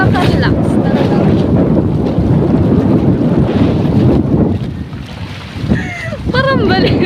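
Strong wind buffets the microphone outdoors near the shore in Sto. Domingo, Albay, a loud continuous roar with gusts that ease briefly before returning, and a few faint bird chirps near the end.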